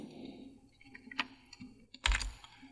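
A few quiet keystrokes on a computer keyboard while typing in Microsoft Word, with sparse, irregular clicks and one slightly firmer tap near the end.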